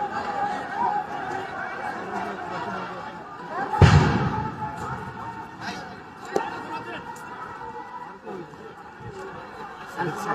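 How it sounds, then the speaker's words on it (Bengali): A police sound grenade thrown at protesters goes off once in a loud, booming blast partway through, over steady crowd chatter and voices at a street protest. "আইন শৃঙ্খলা বাহিনীর সদস্যরা আন্দোলনকারীদেরকে উদ্দেশ্যে সাউন্ড গ্রেনেড নিক্ষেপ করছে"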